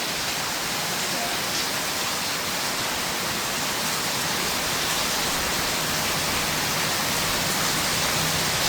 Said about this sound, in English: we just pulled in the driveway here, and it went to pouring down again